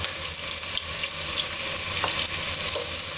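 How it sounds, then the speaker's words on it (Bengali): Onion with ginger and garlic frying in a pan, a continuous dense sizzle with faint occasional clinks, heard close with no speech. "পেঁয়াজ দিয়ে দিচ্ছি আদা রসুন দিয়ে দিব"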